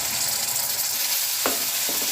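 Onion paste, garlic and chutney masala sizzle in a pan as they are stirred for a restaurant-style masala paneer mixed vegetable dish, with a constant close frying hiss and two short scraping strokes near the end.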